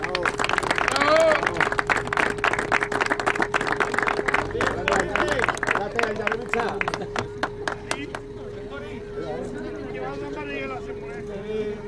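A crowd claps steadily for offroad race finishers at a 2016 final race, with rhythmic applause running beneath an announcer's amplified voice and a steady tonal hum, thinning toward the end.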